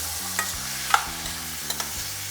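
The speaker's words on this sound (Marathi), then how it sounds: "आता मी आपण हलवून घेऊयात" Indrayani rice being stirred in a pan for onion rice (kande bhat), a steady close sizzle with light scraping and occasional clicks of the spoon, over a low steady hum, with no voices.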